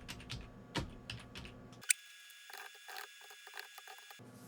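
Computer keys tapped in short, irregular bursts as a commit message is typed, close and fairly quiet, with no voices.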